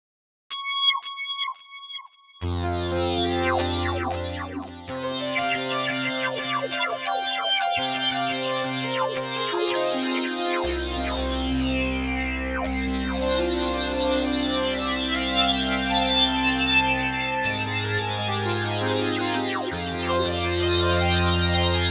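Free synth plugin patch played with effects switched on: a short bell-like intro gives way to lush sustained chords with chorus, distortion and echo, deep bass notes shifting beneath, loud and continuous.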